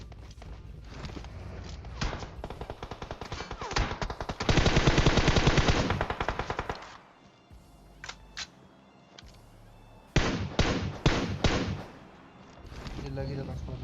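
Rapid bursts of automatic gunfire in PUBG Mobile crackle in sharp volleys, with a loud sustained stretch and scattered single shots afterward.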